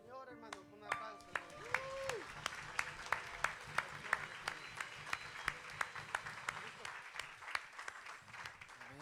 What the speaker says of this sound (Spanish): Salta al Señor, hermano, con un aplauso.